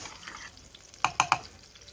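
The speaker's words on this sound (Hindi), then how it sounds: "ये है लहसुन, लहसुन का हम तड़का लगा रहे हैं।" Garlic sizzles softly in frying oil in a pan for a tadka, then three sharp clinks of a utensil stirring against the cookware ring out close by.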